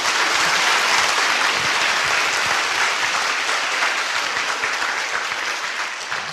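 Dense, steady applause from an audience at a traditional-culture study camp lecture, loud and continuous throughout, easing slightly toward the end, with no talking over it.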